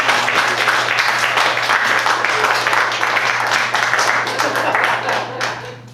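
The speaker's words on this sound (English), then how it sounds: "Let's give Roop a round of applause" An audience at a jazz combo's Hanukkah celebration applauds a trombone player, a loud sustained wash of clapping from many hands over a low steady hum, tapering off toward the end.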